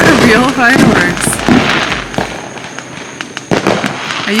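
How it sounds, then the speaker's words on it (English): Several fireworks bang and crackle in quick succession, fairly close, in a Florida neighborhood, with voices chattering between the bursts. "The fireworks were beautiful, Florida"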